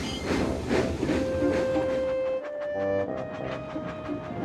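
A steam locomotive in the Locos Online train game puffs along in steady, rhythmic hissing chuffs, loud and near, with a sustained tonal hum running beneath.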